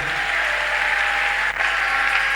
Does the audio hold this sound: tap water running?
no